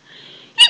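A single person's sneeze, a faint drawn-in breath building for about half a second before a short, loud, sharp burst right at the end, heard alone with no talking.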